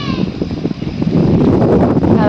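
Stormy Kalbaishakhi wind roars against the microphone in a loud, steady rush, with faint voices underneath.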